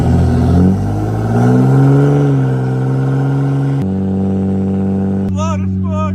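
A 2017 6.7 Cummins diesel truck with a Spelab 5-inch turbo-back straight pipe exhaust revs loudly and up close, its deep engine note rising and falling, then settling into a steady, heavy idle rumble.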